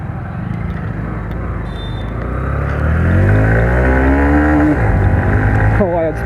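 Honda SP125 motorcycle engine carrying a rider through a U-turn in the city, a steady loud drone that rises in pitch as it accelerates midway, then drops and revs again near the end.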